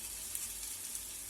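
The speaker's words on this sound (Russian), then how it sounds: "пока котлетки жарятся" Cutlets frying in a pan over a low flame, a soft, steady bright sizzle with small crackling pops, faint and close, with no talk.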